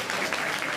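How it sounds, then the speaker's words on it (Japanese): Audience applause fills a short burst at a Tokyo DisneySea Turtle Talk show, a steady dense clatter of many hands clapping near and loud with no talk over it. "みんな川田かなでに拍手してくれ。"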